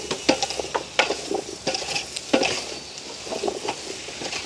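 Onions and green chillies being stirred in a frying pot over the fire, the spoon scraping the pan in irregular strokes above a continuous light sizzle, close and fairly loud, with no voices.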